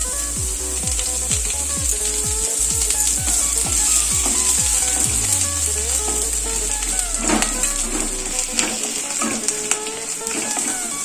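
Garlic hits hot oil in a pan while veg momos are being made, giving a steady close sizzle. Repeated low thumps sound early on, then fade under the continuous frying hiss.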